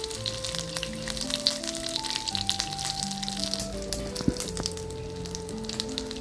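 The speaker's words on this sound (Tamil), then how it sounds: "கடுகு வெங்காயம் பொரிஞ்சதும்" Mustard seeds, fenugreek, dried pepper and curry leaves sizzle and crackle in hot oil, a continuous close frying hiss with scattered pops, while faint music plays underneath.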